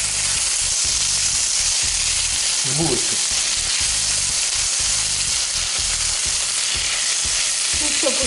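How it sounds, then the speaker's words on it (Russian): Chicken breast sizzling and frying in a pan while being stirred, a steady loud hiss with intermittent scraping of the utensil, during preparation of stuffed cabbage; a brief voice speaks once. "Ну все, пусть обжаривается пока."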